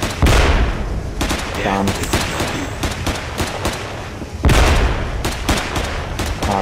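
Rapid rifle gunfire crackles in a combat video game, with bursts of loud shots and a heavy boom at the start and again midway, while a person mutters briefly.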